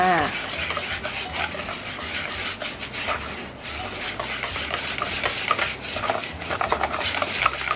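A utensil stirs a cheesecake mixture of cornflour and a pinch of salt in a bowl, producing a close, continuous scraping and rubbing swish that rises and falls in rhythm, with no speech.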